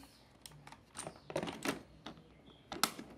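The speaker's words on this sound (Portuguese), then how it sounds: "Ele tem esse barulhinho muito esquisitinho aqui de teclado bem simples, mas bem legal" Keystrokes on an Xtrike Me GK-916 mechanical gaming keyboard with an ABS plastic case, irregular clacky taps in small bursts, close and fairly quiet, with no talking.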